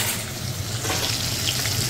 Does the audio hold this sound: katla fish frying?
yes